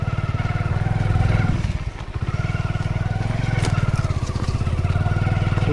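A modified Honda Splendor 100cc motorcycle rides off-road with a steady, close, loud single-cylinder engine thrum. The rapid, even putter dips briefly partway through, then keeps running without speech.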